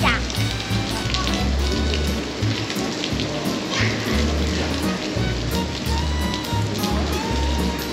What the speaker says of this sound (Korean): 비가 와서 걱정이 많았는데 그래도 여기 장호항 좋은 포인트를 찾아서 비 엄청 많이 오는데도